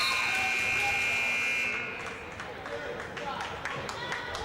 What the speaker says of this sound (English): Rebounded by Yates at the buzzer